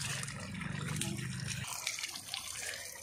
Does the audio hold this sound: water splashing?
yes